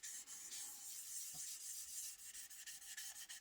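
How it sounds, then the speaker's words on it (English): Sandpaper rubbing steadily across primer on a 1968 AMT Corvair model car body, a close, continuous rasping hiss with short rhythmic strokes and no talk. "you'll hear the sound of the sandpaper across the primer just start to change"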